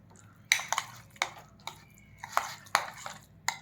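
Mashed taro (maan kochu) paste being mixed in a bowl, with a series of sharp, irregular utensil taps and scrapes, close and fairly quiet, spaced roughly every half second.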